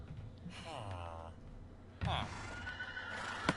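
A tamed horse in Minecraft gives two neighs, one after another, with a soft hoof clop at the end and someone talking quietly underneath.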